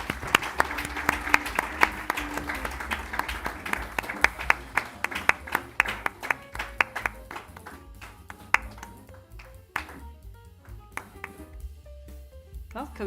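Audience applause and clapping at a presidential inauguration ceremony, steady broadband clapping with sharp individual claps that thins out toward the end, under some talk.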